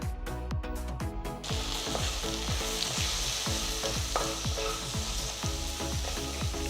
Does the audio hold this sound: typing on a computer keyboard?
no